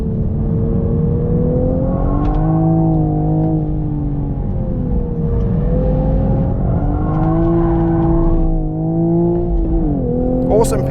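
A 2025 Toyota GR Supra Track Edition with a manual gearbox pulls hard down a track's main straight, its engine note climbing steadily and loud through the gears with brief dips at the shifts, heard from inside the car.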